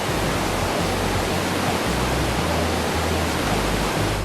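A waterfall near Valle de Bravo roars as a steady, dense rush of water, loud and close, with no pauses and no voices.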